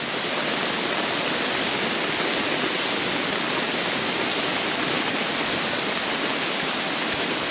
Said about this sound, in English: water is just pouring in there